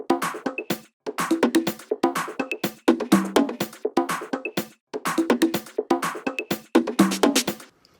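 A busy tech house percussion loop of crisp clicks, snappy hits and shaker-like ticks forms a syncopated pattern that repeats twice with short gaps, bright and fairly quiet, without any kick or bass.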